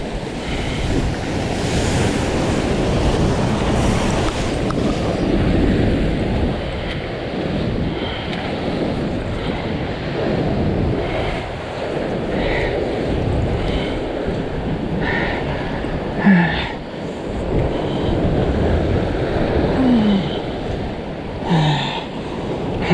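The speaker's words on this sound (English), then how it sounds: "I need another one of those waves." Ocean waves crashing and surging against a rock ledge on a windy shoreline, loud continuous wash with repeated swells and gusty wind noise across the whole stretch, no talk.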